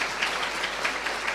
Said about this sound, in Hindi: अपने लिए ताली बजाओ।